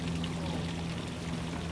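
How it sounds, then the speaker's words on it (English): A small garden waterfall pours in a steady, close rushing splash, continuous and fairly loud, with a low hum underneath. "Got some more little waterfalls here."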